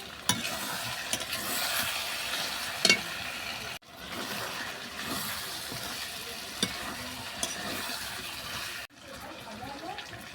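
Potatoes fry in oil alongside braised chicken, giving a continuous sizzle with scraping stirs and spatula knocks, close and moderate in level, broken by two short pauses; faint speech now and then.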